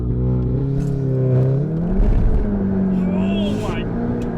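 APR Stage 3+ tuned Golf R launching from a standstill under launch control, its engine rising steadily in a loud, close, sweeping pitch with a faint whistle, while people talk over it in the cabin.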